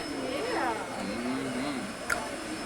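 An airplane at the Memphis airport gives off a steady jet engine whine and rumble, and people talk nearby.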